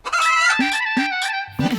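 A rooster crows up close and loud in a clear, drawn-out cock-a-doodle-doo, with a short cluck at the end.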